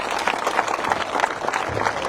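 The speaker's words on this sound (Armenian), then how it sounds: "Եկեք ծափահարենք այս առիթով։" An audience at a political rally claps in a dense, steady burst of applause from a crowd, continuous and fairly close for the whole moment.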